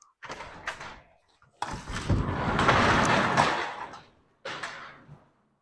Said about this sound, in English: We'll just have to open up the garage doors